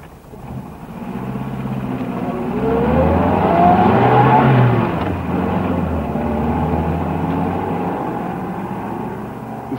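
A car engine revs and pulls away, swelling to a louder, rising whine midway before settling into a steady driving drone, with no voices.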